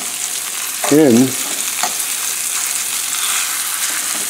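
Pork with garlic and mushrooms frying in a pan, a steady close sizzle with scraping stirs, and a brief voice heard early on.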